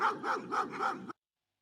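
A dog barks four times in quick succession, close and clear, then silence.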